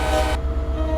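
Crossing bells on a Pacific Surfliner route in Train Simulator 2014 clang in a steady rapid rhythm over a constant low rumble and tonal hum, loud and close throughout.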